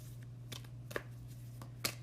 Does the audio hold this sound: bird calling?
no